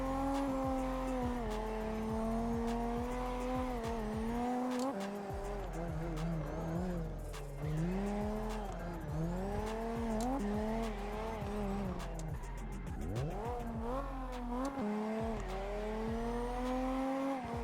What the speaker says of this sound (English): As you could see there, a little bit of a clutch kick.